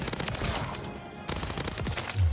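Rapid bursts of close, loud automatic gunfire from a Renetti pistol in Call of Duty Modern Warfare III, two volleys separated by a brief pause.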